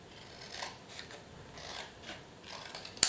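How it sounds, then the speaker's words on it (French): Scissors snip through paper circles glued onto packaging cardboard in a series of quiet, rasping cuts at an irregular pace, ending with a sharp click, close up and without talk. "Donc je découpe en rond, vous vous rappelez les enfants, la main qui tient les ciseaux ne bouge pas, ne fait que s'ouvrir et se fermer"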